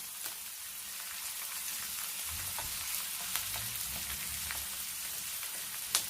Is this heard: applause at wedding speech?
no